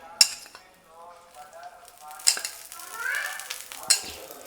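A dosa crisping on a hot pan with a drop of oil, soft sizzling and frying under stirring and scraping scrapes, with a few sharp clinks of a utensil against the pan close by.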